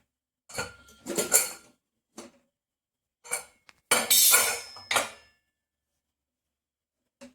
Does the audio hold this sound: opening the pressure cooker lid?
yes